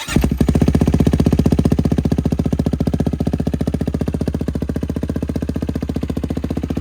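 A 2023 450 dirt bike engine idles close up with a fast, even, loud thumping pulse that holds steady throughout, running alone with no talk over it.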